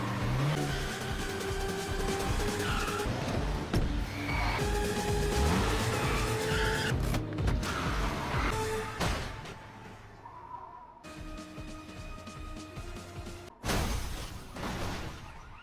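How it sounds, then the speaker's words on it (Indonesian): A car speeds through a tall parking garage, smashes through the fence and falls from the structure. Loud engine roar and tire noise give way to sharp crashing impacts, then a quieter stretch and a final heavy hit. "membuat dia menabrak pagar bangunan parkiran dan membuat mobilnya terjatuh dari bangunan parkiran yang tinggi itu"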